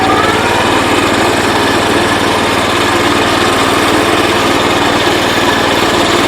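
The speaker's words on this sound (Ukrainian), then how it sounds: "Роторна косарка працює, убираємо ножку." Rotary mower mounted on a Motor Sich walk-behind tractor runs at steady speed, its engine a loud, close, continuous droning rattle with constant vibration and no pauses.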